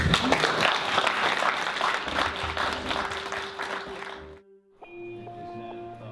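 Dense, loud applause from an audience honouring a reunited national champion basketball team fills about four seconds, then stops abruptly and gives way to steady sustained tones.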